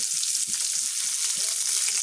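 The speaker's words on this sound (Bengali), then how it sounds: "আমি ভালোভাবে মরিচগুলো ভেজে নেব একদম লাল লাল করে" Chilies and finely chopped onions fry in a pan with a steady, close sizzle and hiss, a few soft stirring clicks and scrapes underneath, running continuously with no voices.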